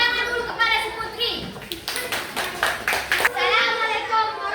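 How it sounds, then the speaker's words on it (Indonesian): Schoolchildren in a classroom applaud in a short burst of scattered hand claps, surrounded by kids' chatter and voices. "tepuk tangan dulu kepada si Putri."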